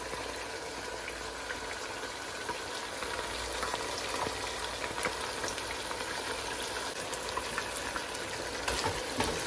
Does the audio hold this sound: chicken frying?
yes